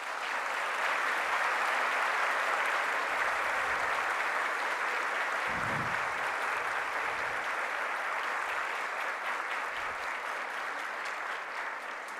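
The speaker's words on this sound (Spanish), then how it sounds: "les pido en este momento les otorguemos un aplauso a ellos." Sustained, even applause from a large audience at a graduation ceremony, honoring the graduates' families, a steady roar of clapping lasting several seconds, with faint low murmurs underneath.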